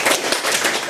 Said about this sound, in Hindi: हम उनका भी सभी लोग तालियां बजाकर स्वागत करें आज।